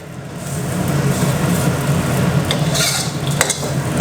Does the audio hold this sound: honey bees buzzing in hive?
no